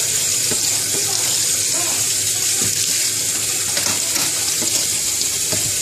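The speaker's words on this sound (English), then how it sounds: "Now we're just washing off the pasta, cooked pasta." Cooked pasta rinsed under a running kitchen tap: a continuous, steady gush of water flows close by the whole time, with a voice faint beneath it.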